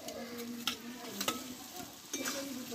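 Fried eggplant tipped into a pan of spiced potatoes sizzles softly, with a few sharp scrapes and clacks of a spoon stirring against the pan.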